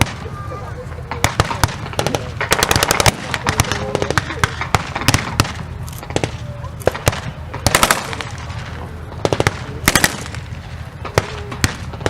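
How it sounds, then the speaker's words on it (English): Blank-fire rifle and machine-gun shots from American troops at a WWII battle reenactment crackle in irregular bursts and single cracks, loud and near, with a commentator talking over them. "Now the American troops who are dug in at the bottom of the field are now firing at the advancing Germans."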